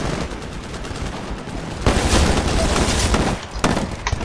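Dense gunfire from the PC shooter Titanfall, played in Attrition mode on the Fracture map: rapid overlapping shots and bursts fill the whole stretch, loud and continuous with a few heavier impacts.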